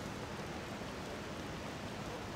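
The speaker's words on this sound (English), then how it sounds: "Now it's raining." Steady rainfall in the video game Persona 5, a dense, even hiss of falling rain filling the whole stretch at constant level with no voices or other sounds on top.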